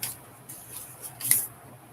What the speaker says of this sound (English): Run their knife up to this point and pull